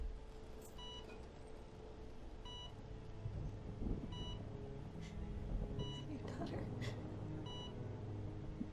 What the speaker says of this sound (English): I fucking hate the freaking beeping in hospitals.